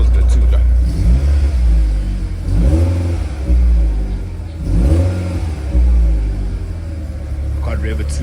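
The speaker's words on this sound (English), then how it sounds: "can't rev it too much because it still needs to warm up" A car being brought back to running condition revs its engine gently while still warming up, giving several short swelling revs over a loud steady idle rumble, with someone talking over it.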